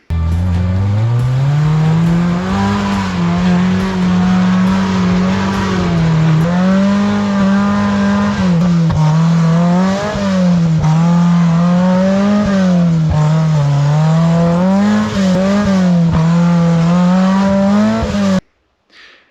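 A small Suzuki Samurai 4x4 driven hard off-road, its engine revving loudly and continuously, the pitch rising and falling in repeated surges for about eighteen seconds before cutting off abruptly, with no talking.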